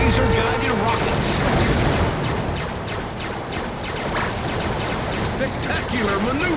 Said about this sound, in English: Devon Dudley now has control of the laser-guided rockets.